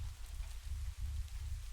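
Steady artificial rain falls in the video game Reprobate, a continuous low, dense wash with no talking over it.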